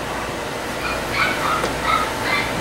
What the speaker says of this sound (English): you can hear my dogs obviously having some kind of show of their own